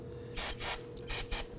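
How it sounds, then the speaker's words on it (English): Aerosol spray can hissing onto a rubber exhaust hanger near the fuel tank of a 2005-2009 Subaru Legacy 2.5L H4, in four short, loud bursts of two pairs with brief gaps. "I'm going to go ahead and spray that."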